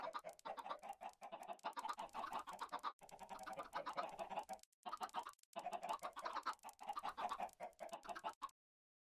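Minecraft chickens cluck in quick, repeated bursts from the game, broken by a couple of brief silent gaps, fairly quiet with no talking.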